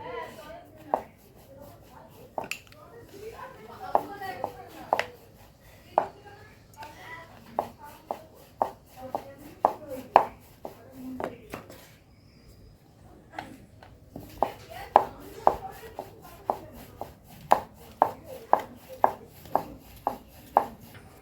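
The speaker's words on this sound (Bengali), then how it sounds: "এবার আমি এটাকে সামান্য ময়দা দিয়ে বেলে নেব রুটির মতন করে" Soft repeated taps and thuds of potato dough balls being rolled out with flour on a board, irregular knocks close by with quieter rolling between, and a voice talking in places.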